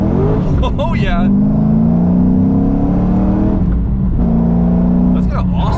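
A car with a new gearbox pulls away under hard acceleration, its engine note rising and falling loudly through the gears, with voices talking over it inside the cabin.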